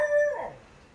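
A dog's short howl outside a house, one sustained tonal cry that slides down and fades within a second, fairly close and alone.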